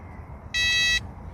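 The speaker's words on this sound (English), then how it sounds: "My other alarm's going off there again." A carp fishing bite alarm at a lake sounds a single short electronic tone of about half a second, loud and clear over quiet outdoor background.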